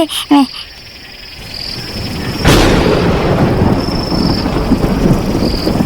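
A cartoon thunderstorm effect: after a brief voice, a sudden loud thunder crack breaks into a dense, sustained roar of rain and wind, with a steady high insect-like whine running throughout.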